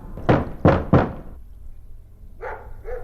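A monster pounds on a door in the 2008 PC game Nikopol: Secrets of the Immortals. Three heavy, loud thuds come in quick succession, then a pause and two softer bumps.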